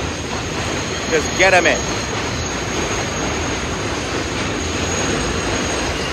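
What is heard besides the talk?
train passing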